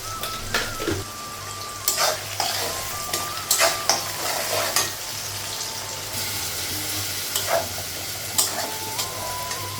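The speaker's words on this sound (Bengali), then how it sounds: "ভালো করে কষে নিয়েছি মশলাটা" Onion and spices frying in a pan while being stirred, a continuous close sizzle with repeated scraping and clattering strokes of a spoon, some louder bursts, with no talking.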